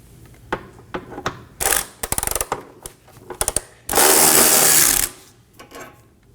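Ratchet wrench loosening a 16mm fuel tank strap bolt on a 2015-2023 Nissan Maxima 3.5L V6, with close bursts of rapid clicking, scattered single clicks, and a sustained loud whirring burst near the end.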